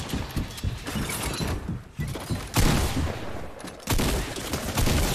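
Rapid bursts of gunfire from the Fortnite video game, during a solo duo cup match, crackling in clustered volleys with short pauses, loud and close throughout.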